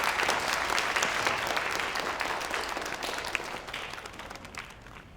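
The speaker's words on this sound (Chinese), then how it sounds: "来，大家鼓掌。" An audience in a hall claps in warm, sustained applause that gradually fades over several seconds, with no talking over it.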